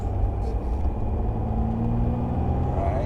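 A 2009 Mercedes E320 Bluetec with boost issues accelerates along a road, its engine a steady, close, low rumble with continuous road noise throughout.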